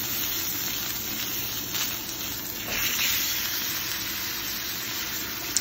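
Prime bone-in ribeye steak searing in hot oil, a steady close hiss and crackle that runs evenly throughout with a slight swell midway, with no voices.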